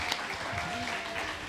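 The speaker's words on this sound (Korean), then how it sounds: "네, 박수 안 주세요?" Audience clapping at a live community radio public broadcast at a neighborhood culture festival, a steady, moderately loud wash of applause lasting throughout with no talking.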